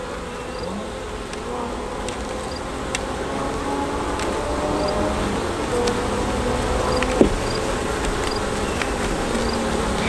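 Honey bees around an open hive make a continuous dense buzzing drone that stays steady for the whole stretch, with occasional faint ticks and a brief knock near the end.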